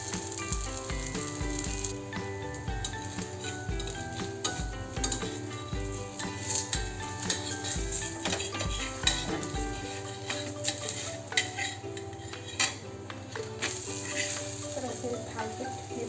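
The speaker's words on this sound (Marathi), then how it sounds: "तर मोठ्या ते मध्यम फ्लेमवरती हे थालीपीठ आपण भाजून घेणार आहोत." Thalipeeth, a Marathi flatbread, frying in oil on a pan over medium-high flame, a soft steady sizzle under occasional utensil clinks and taps, with background music playing throughout.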